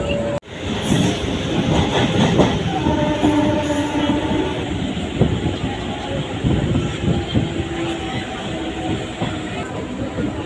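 Local train running from Digha toward Kolkata, heard from inside the carriage as a steady loud rumble with rattling and clicking wheels, while voices speak over it.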